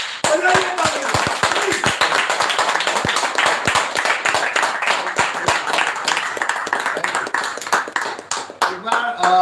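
Audience clapping at a live personality training session, sharp distinct claps forming steady applause close by, with a voice speaking over it near the start and end.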